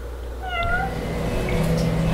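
A cat meows in the PS4 game Yakuza 6, giving a few short, clear mews in quick succession near the start over steady in-game background ambience.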